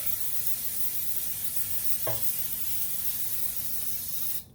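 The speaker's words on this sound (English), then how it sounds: "just give it a quick spray on the bottom and up the sides a little bit here" Cooking spray misted into a cake pan, a steady close hiss lasting several seconds with a small knock partway through, cut off abruptly at the end, with no talk.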